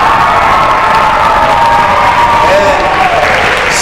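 Students at a school fitness jump rope assembly cheer and clap for a teacher, a loud, continuous wash of applause and children's shouting that holds steady throughout.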